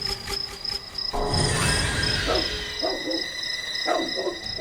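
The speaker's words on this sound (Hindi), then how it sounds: "ये कुत्ता ऐसे क्यों भौंक रहा है?" A dog barks in several sharp outbursts at moderate distance on a road at night, with a steady chirping of crickets running underneath throughout.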